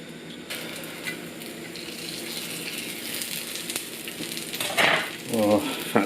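Food frying in overheated extra virgin rapeseed oil while cooking chicken Kiev, a steady broadband sizzle that swells into louder bursts of crackling and spitting near the end.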